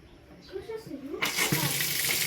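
After a brief spoken remark, water bursts from a water filter faucet valve in a kitchen and flows steadily and loudly for the last second.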